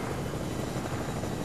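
Helicopter in the Fortnite video game, a dense, steady rotor roar that stays loud and close throughout a brief moment with no talk over it.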